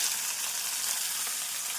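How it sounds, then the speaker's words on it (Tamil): Shallots hit hot oil already crackling with cumin, fenugreek, two dried chillies and a pinch of asafoetida, giving a steady, close, dense sizzle that holds evenly throughout with no voices. "இதை நன்றாக பொரியவும் நாம் நறுக்கிய சின்ன வெங்காயத்தை சேர்த்து விடலாம்"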